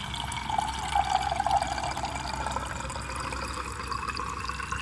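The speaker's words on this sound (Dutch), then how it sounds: "Deze gaan we even vullen met" Water running into a container at a campsite, a steady faint rushing pour with a slight rise in pitch as it fills, heard alone.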